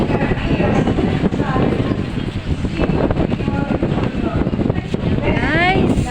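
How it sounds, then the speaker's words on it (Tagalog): Constant roaring wind buffets the microphone, with a few faint voices and chirpy sounds in the background. "Hangin."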